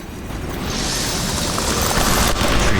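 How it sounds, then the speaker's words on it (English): Dense, continuous gunfire sprays a hail of bullets in the video game Nobody Wants to Die, a loud sustained roar of shots with mechanical clatter. "Treated the next guest with a hail of bullets."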